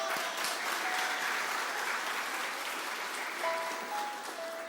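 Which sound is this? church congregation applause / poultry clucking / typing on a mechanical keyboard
church congregation applause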